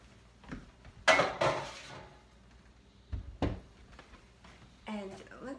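Big cooking pots and pans clank and knock as they are handled in a home kitchen, a few loud close metallic bangs separated by quieter gaps, with a voice speaking briefly near the end.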